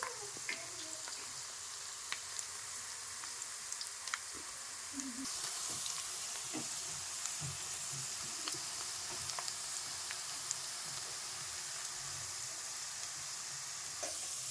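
Onions sizzle steadily in a hot pan with oil, with scattered scraping and clinks from stirring throughout. The frying is close and moderately loud, with no talk over it.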